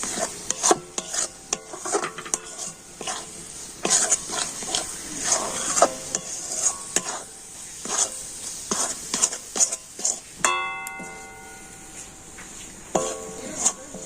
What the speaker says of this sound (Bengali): কিন্তু কন্টিনিউ নাড়াচাড়া করে নেব এইভাবে নাড়তে নাড়তে দেখবেন এটা কিন্তু অনেকটাই শক্ত হয়ে যাবে